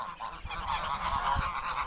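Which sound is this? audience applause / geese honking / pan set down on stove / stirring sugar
geese honking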